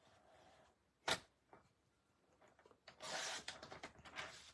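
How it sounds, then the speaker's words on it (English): Ribbon cut on a paper trimmer: a sharp single click then, after a quiet gap, a brief rough slicing scrape with small rustles, faint and close. "let's put it on the trimmer. And I'm just going to cut me a 1/2 inch."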